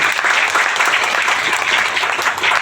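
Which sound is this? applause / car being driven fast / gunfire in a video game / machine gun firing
applause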